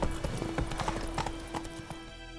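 Hooves of the horse Roach clip-clopping at a quick galloping rhythm in The Witcher 3, close and moderately loud over a steady game background hum.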